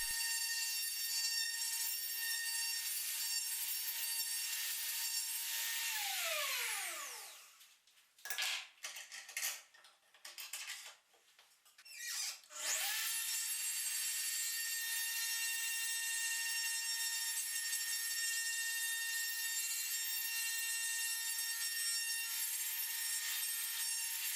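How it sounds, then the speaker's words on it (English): A Pantorouter joinery machine cuts wooden tenons for a table: a loud, steady high router whine that dips and sputters midway as it bites into the wood, then returns to a constant drone with no talk. "I used the Pantorouter to cut the tenons, which was just as quick and simple as cutting the mortises."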